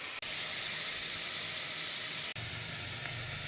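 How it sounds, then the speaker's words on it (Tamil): A mixer grinder grinds spices into powder with a loud, steady, whirring roar, close up, broken by two brief stops. "நம்ம இப்போ மிக்சியில் எடுத்து வச்சுருக்கிறத பொடி பண்ணிட்டு வரலாம்"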